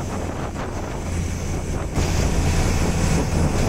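A wooden fishing boat running on the Arabian Sea, a constant engine rumble under heavy wind buffeting and rushing water, growing louder partway through, with no talk.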